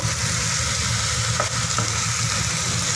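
Chicken, onion and vegetables stir-frying in a pan for chicken noodles, giving a steady, close sizzle and crackle of hot oil that runs unbroken with no talking.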